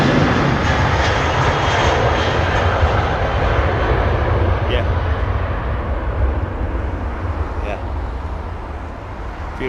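An Airbus A350 airliner at London Heathrow Airport gives a loud, continuous jet roar that eases slightly toward the end, with voices talking over it.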